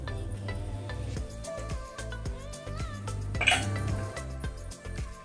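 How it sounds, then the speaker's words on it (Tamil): Boiled potatoes for aloo paratha are mashed in a bowl: a spoon knocks and scrapes against the bowl in a repeated clinking rhythm, close and fairly quiet, with soft kitchen background. "இந்த பவுல்ல வந்து உருளைக்கிழங்கு போட்டு மேஷ் பண்ணிக்கலாம்"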